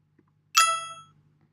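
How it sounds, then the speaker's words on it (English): A single bright metallic coin ding, a sharp clang struck once with high shimmering overtones that ring briefly and fade, alone in quiet. "So on the coin sound"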